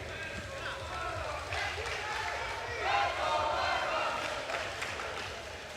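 A large, noisy crowd roars at a Friday night jai-alai match at Magic City, a dense wash of cheering and chatter that swells toward the middle, with faint talk mixed in.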